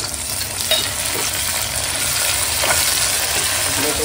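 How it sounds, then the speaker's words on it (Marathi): Tomatoes go into onions frying in a pan for a mutton biryani, and a steady, loud sizzle carries on throughout with faint stirring scrapes, close up and with no talk. "आपण टमाटर ऍड करूया. काय टाकायचं? टमाटर टाकायचं."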